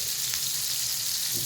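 A hamburger steak sears in a hot pan, giving a loud, dense, continuous sizzle up close with no voices.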